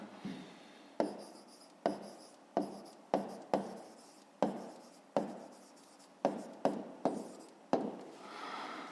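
A pen or pencil writes on paper near at hand, working out a fifth-grade triangle problem in a run of short scratchy strokes, each a quick tap and scrape, repeated about a dozen times at an uneven pace.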